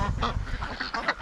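Breeding ducks quack several times in a quick, irregular series of short, nasal calls, close and fairly loud, with no talking.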